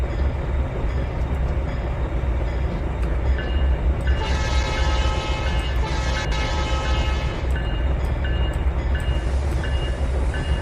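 An SD80 diesel locomotive moving in the Trainz 2019 railroad simulator gives a steady, heavy rumble with a constant low drone. Brighter tonal bands swell in over the middle stretch and again near the end.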